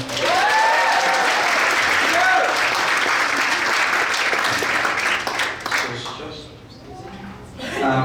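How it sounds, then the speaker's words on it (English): Loud, sustained applause from a crowd at a girls' soccer team banquet, dense clapping for most of the stretch before thinning and trailing off near the end, with some voices mixed in. "we can give the dudes a round of applause anyway"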